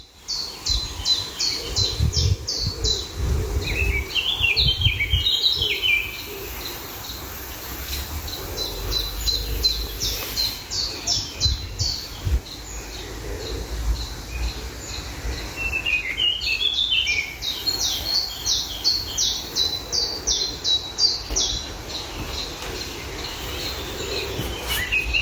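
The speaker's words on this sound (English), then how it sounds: "I captured a lot of bird chirps and singing" Wild birds chirp and sing outdoors, repeated bright trilling phrases from several birds at moderate distance, recurring every few seconds over a steady background of low rumble and insect-like hiss.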